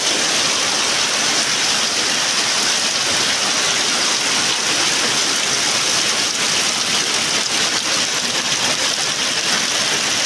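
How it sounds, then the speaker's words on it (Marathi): Heavy monsoon rain pours down in the Konkan region during a red alert, a loud, dense, unbroken roar of water that holds steady for the whole stretch. "पावसाचा जोर वाढलेला आहे"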